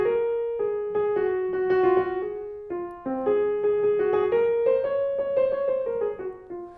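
A melody played in the Phrygian mode, starting off the tonic, sounds as a clear pitched instrumental line of steady, evenly paced notes, close and moderately loud, without talk.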